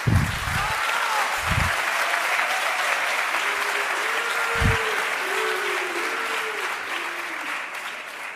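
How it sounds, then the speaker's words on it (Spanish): Steady audience applause during a political talk on populism in Latin America, continuous and moderately loud throughout, with a speaker's voice briefly audible beneath it. "Pero no me aplaudáis"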